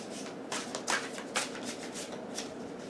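A deck of dog-themed tarot cards being shuffled by hand, soft riffling bursts and flicks in quick succession, close and quiet with no talk.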